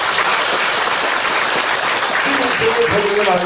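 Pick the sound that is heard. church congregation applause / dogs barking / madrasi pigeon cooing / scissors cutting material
church congregation applause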